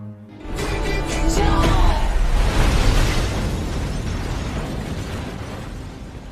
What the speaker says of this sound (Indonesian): Adam juga telah menaruh beberapa bom di gedung tersebut hingga setelah Adam keluar inilah yang terjadi.